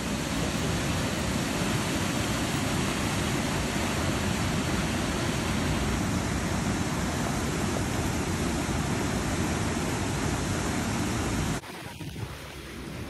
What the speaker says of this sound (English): the high side is slightly opened in order to flood the lock and raise the water